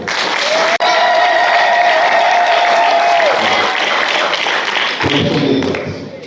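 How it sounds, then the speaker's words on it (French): Loud, sustained applause from a large crowd at a doctoral thesis defense, dense and steady throughout, easing slightly at the very end. "Applaudissez encore très fort."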